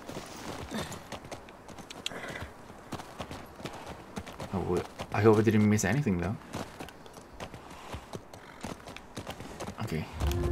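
A horse ridden in the video game The Last of Us Part II moves along with steady rhythmic hoof clops, mid-distance and continuous, while a player talks over the top.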